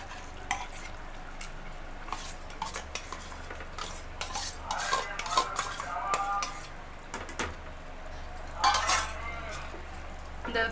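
A spoon stirs lentils and vegetables in a pot for a Tirunelveli sothi kuzhambu, giving soft scraping and clinking over a quiet simmer, with a few brighter metallic knocks.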